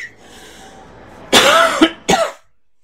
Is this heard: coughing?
yes